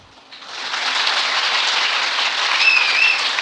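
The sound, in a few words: audience applause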